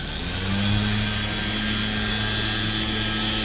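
A leaf blower clearing a wet lawn during a day of lawn care roars steadily and continuously, a loud, even droning whine with a low hum underneath, no talk over it.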